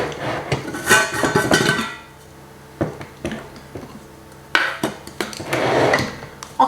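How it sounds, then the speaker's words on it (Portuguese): Pizza dough being divided and opened on a kitchen counter, with irregular knocks, taps and scraping bursts, some clustered and busy, others single sharp hits separated by quiet gaps. "eu já tenho aqui a primeira massa, vou pô-la aqui na bancada"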